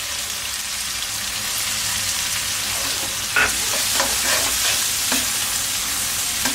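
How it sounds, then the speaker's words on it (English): Chilies and garlic sizzling in a hot pan for a kwai teow pad kee mao stir-fry, a loud continuous hiss with scraping stirring strokes and clacks partway through. "we're going to start with the chilies and garlic. We're going to get those in there and cooking as quickly as possible."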